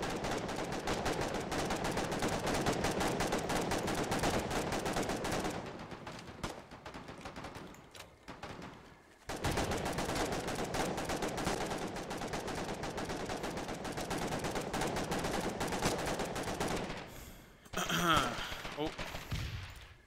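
Video game machine gunfire from an FMG: long, loud, sustained bursts of rapid shots with brief breaks, the firing resuming in dense streams and ending in a final sharp burst.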